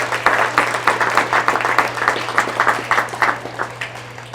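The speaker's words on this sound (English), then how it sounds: "give them all a big round of applause" At a D.A.R.E. graduation at Mars Centennial School, an audience claps for families and teachers, giving moderately loud, slightly uneven applause over a steady low electrical hum.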